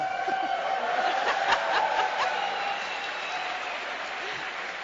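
Audience applause at a live seminar, a dense even clapping that peaks and then slowly tapers, with some light laughter mixed in.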